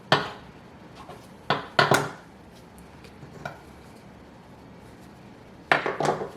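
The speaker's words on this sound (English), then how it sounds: "I have a flat knife, it's not serrated, and I'm going to cut this into 3 equal parts" A flat, non-serrated knife cuts through challah dough, giving a few soft thuds and scrapes against the board in separate bursts with quiet gaps between them.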